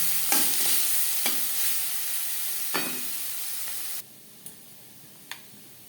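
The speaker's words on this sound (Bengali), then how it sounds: "আর লাগছে খুবই সামান্য পরিমাণে হলুদের গুঁড়ো লবণ হলুদ আলুর সাথে বেশ ভালো করে মিক্স করে দেবো" Potatoes sizzle in a hot pan as they are stirred with turmeric and salt. A steady frying hiss runs under several scraping stirs, then drops to a quieter sizzle with two more brief clinks.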